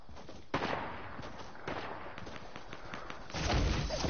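Gunfire crackles through a video game shooter match, repeated bursts and thumping shots in fairly loud, busy clusters that grow heavier toward the end.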